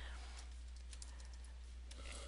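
Typing on a computer keyboard: a brief, quiet run of light clicking keystrokes over a low steady hum.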